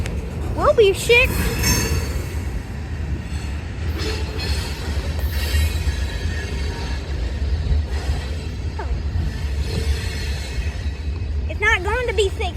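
A train rolls along the rails with a steady low rumble and occasional wheel squeals, heard at close range, while people talk faintly over it.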